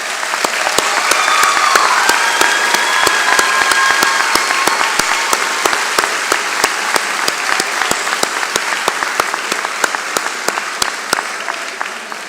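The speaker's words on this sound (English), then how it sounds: "Graduates, please join me in a round of applause for your family and friends who are here with you today or on Zoom." A graduation commencement crowd applauds steadily and loudly, dense clapping sustained throughout with no break, close and full.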